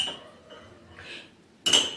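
A spoon stirs coffee in a cup in a home kitchen: soft faint scraping swirls, then one sharp bright clink of metal against the cup near the end.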